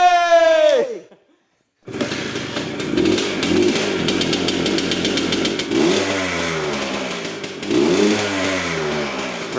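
An old two-stroke Harley motorcycle engine, left sitting for decades, revs up loudly after a brief silence, then settles back toward idle and surges again with a rough, buzzy, popping note close by.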